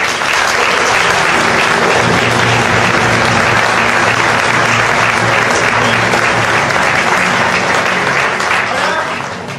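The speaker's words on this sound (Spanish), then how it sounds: "Un aplauso para los billetes." A large crowd at a historical reenactment of Villena's 1525 town charter applauds loudly and continuously for nearly ten seconds, with a sustained low musical tone and some voices underneath.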